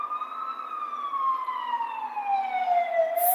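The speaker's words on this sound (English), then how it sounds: "Flipping ambulances!" An ambulance siren wails past in a single long, steady tone that slowly drops in pitch as it goes by, loud and clear with no talking over it.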